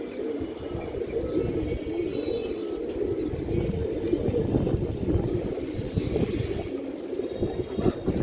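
A pair of Nazra Kaldom pigeons coo in low, throaty, overlapping murmurs that run without a break, close by.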